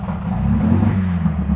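An MGB engine idles steadily after an oil change, a low, even rumble running close and continuous with no voices.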